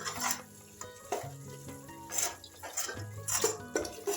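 A spoon scrapes and stirs roasted masala in a pan for a pani puri filling, producing repeated scraping strokes with a light sizzle and occasional clinks of metal, close and moderately loud, with no one speaking.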